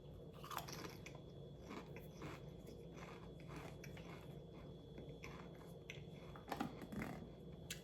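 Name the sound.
crunching salt and vinegar Pringles chips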